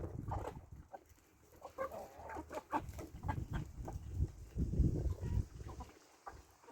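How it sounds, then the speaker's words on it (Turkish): Roosters squabble with harsh squawks and flapping scuffles in a short burst, moderately loud and close, with low thumping movement underneath. "İki horoz dalaştı."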